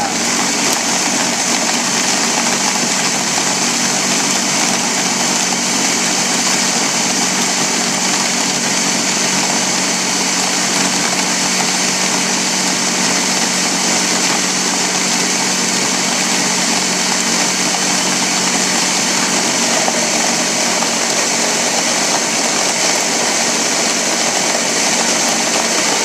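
A blender whirs steadily as it grinds compost scraps into worm food, a loud, continuous motor drone that holds the same pitch from start to finish with no voices over it.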